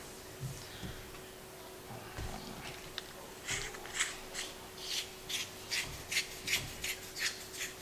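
A plastic battery cap being screwed onto an ATN X-Sight II HD 5-20 rifle scope gives a close, quiet run of short rasping scrapes that quickens into a steady rhythmic series toward the end, with no talking.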